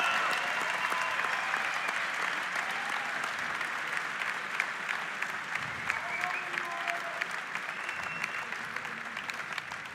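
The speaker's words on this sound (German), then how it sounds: "Einen schönen Applaus für beide Kämpfer, Sebastian Mandinger, Simon Schürger." A crowd at a WLMMA 64 mixed martial arts event applauds both fighters after a wild bout, with steady, dense clapping sustained throughout and no clear talk over it.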